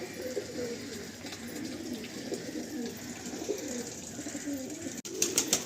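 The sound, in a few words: Suleman Kagji pigeons cooing in a loft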